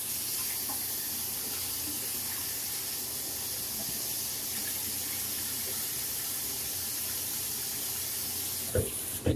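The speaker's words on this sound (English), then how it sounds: "I will just wet my face with warm water" Warm water running from a sink tap while a man wets his face during a safety razor shave, a steady close hiss and splash lasting throughout, with a brief clatter near the end and no talking.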